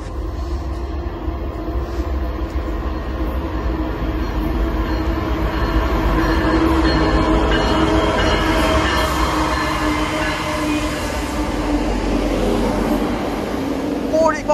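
An Amtrak train passes Depew station in New York on a winter evening with a loud, continuous rumble and rolling wheel clatter, steady and close for the whole stretch.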